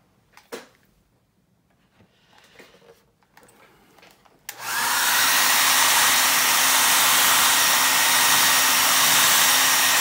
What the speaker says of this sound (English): I'm going to pull my hairdryer over here.